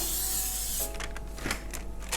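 A short hiss of cooking oil spray from a can, close by, starting after a moment of steady background hum and continuing in a few bursts.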